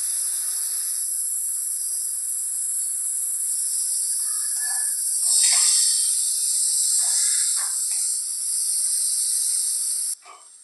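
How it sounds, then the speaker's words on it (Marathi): Washed dried fish (sukat) sautéing in hot oil gives off a continuous bright sizzling hiss that swells slightly midway, then cuts off abruptly near the end. "आणि धुतलेली सुकट त्याच्यात तेलामध्ये परतून घेऊया।"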